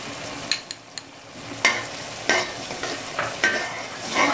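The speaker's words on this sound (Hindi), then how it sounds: "अब हम लोग इसके अंदर टमाटर डाल देते हैं।" Tomatoes fry in an onion masala for a white chickpea curry, with a continuous sizzle broken by sharp spoon scrapes and clacks against the pan at an irregular pace. The stirring is close and there is no talking.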